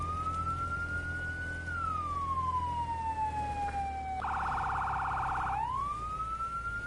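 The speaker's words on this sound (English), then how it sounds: "I hate these sirens." A loud fire truck siren in a firefighting simulator video game sweeps up and down in pitch, switching briefly to a fast warbling yelp before resuming its wail over a steady engine rumble.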